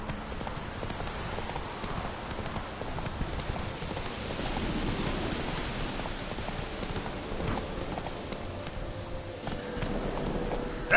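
A horse named Roach gallops in a PS4 video game, its hooves clip-clopping in a fast steady rhythm through the whole stretch, mixed with a rain-like hiss in the background, moderately loud and close.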